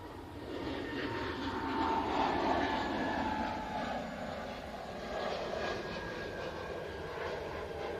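Departing SAS airliner heard at a distance, a soft, steady jet rumble with a gently sliding whine that rises and eases over several seconds.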